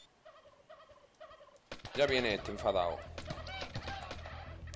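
Turkeys gobble in How to Survive 2, with a few short calls near the start, then busier noisy action and a voice speaking over it.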